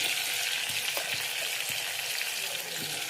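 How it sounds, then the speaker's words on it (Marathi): Onion goes into brinjal frying in a pan, a steady close hiss of sizzling oil with faint stirring scrapes and no voices. "आता याच्यातच आपल्याला कांदा टाकायचा आहे"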